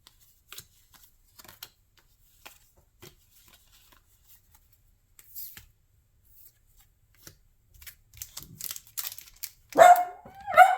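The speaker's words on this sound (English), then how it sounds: "My dog's getting ready to bark." A dog gives a couple of loud, close barks near the end, after a long quiet stretch of scattered light rustling and card-handling clicks.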